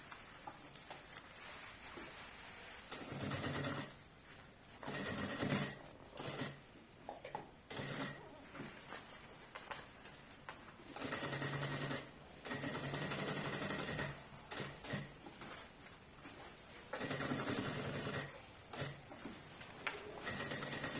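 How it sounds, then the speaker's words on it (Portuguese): Sewing machine stitching finishing and securing seams on the lining of a pencil pouch with a clear plastic window, running in repeated bursts of steady whirring separated by short pauses, close and alone. "eu vou fazer a costura de acabamento nas laterais e de segurança pra prender o forro"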